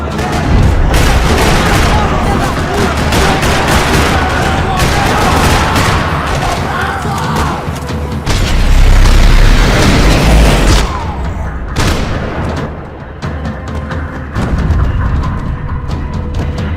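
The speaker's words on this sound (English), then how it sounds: "Another parking lot rattling with gunfire." Heavy video game gunfire in Max Payne 3 rattles almost without pause, mixing rapid bursts and deep booms, loud and close throughout.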